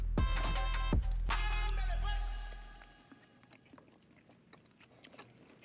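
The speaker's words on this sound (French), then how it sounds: "Je croque doucement, je pense." Loud crunching bites and chewing on hot-sauce-coated chicken nuggets, heavy crunches up front that fade to quieter chewing, close to the mic.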